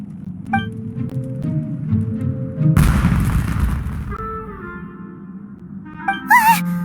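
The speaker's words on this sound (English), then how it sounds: "Was that an explosion? It sounded like fireworks." A single loud firework burst in the Genshin Impact video game, a sudden booming crack midway that decays into a crackling hiss, set against soft game music and followed by brief chimes.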